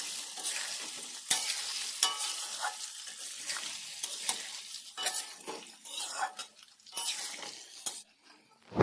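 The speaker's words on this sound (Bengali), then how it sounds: "5 মিনিট আমি তেলের মধ্যে আমলকিগুলো ভেজে নিচ্ছি।" Peeled Indian gooseberries fry in oil with chilli and cinnamon for a pickle, sizzling softly and close while a spoon stirs and scrapes the pan in irregular bursts, with no talking.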